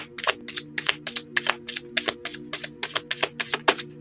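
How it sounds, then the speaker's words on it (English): Angel oracle cards pulled and shuffled from a deck, a quick run of crisp, close riffling snaps about three per second, sharp papery flicks over a faint steady background hum. "Let's pull some more cards from this angel deck."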